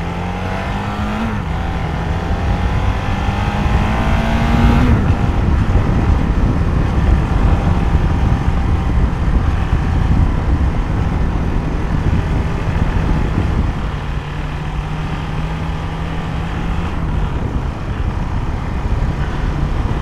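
A 2015 KTM 690 Duke motorcycle ridden hard, its engine a loud continuous drone with rising and falling pitch through throttle changes and gear shifts, heard close from the rider's position with heavy wind rush.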